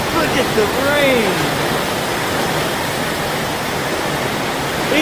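Heavy rain pouring down in Florida, a loud continuous broadband roar like a downpour, with voices talking over it at the start.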